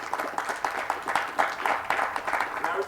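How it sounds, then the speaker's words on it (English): Modest applause rises from a small audience at a talk on faith in state politics. The clapping comes in uneven bursts at moderate volume, thinner than a full crowd's ovation. "please give them a round of applause"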